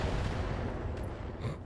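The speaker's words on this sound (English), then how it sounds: "that was a lot of loud explosion at once then" Many loud explosions go off at once in the modded mech game Battletech, a dense rumbling barrage of booms with a fading tail, with no voices.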